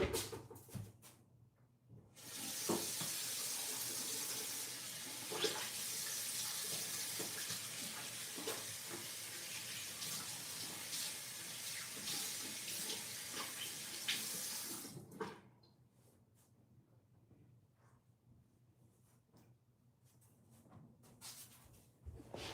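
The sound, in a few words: water running from a tap while washing hands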